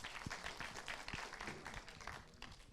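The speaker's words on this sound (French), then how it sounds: "Sous vos applaudissements, s'il vous plaît" An audience at a round-table conference on migration applauds, a faint, steady patter of many hands clapping that continues evenly and sounds distant and soft.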